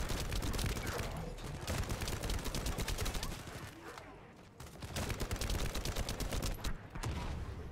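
Rapid, dense bursts of gunfire from a gun in the shooter video game The First Descendant rattle almost continuously at close range, briefly dropping off in the middle before resuming.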